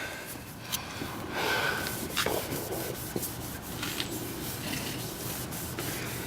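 A rag rubbed quickly and repeatedly over an RV mirror housing, producing close scratchy swishing strokes with uneven bursts of friction.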